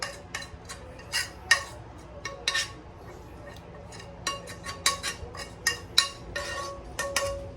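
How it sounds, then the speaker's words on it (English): Onions and butter stirred around potatoes in a skillet, with a utensil clinking and scraping against the pan in quiet, irregular bursts and no talk. "we're going to try to gently stir that around a little bit in there"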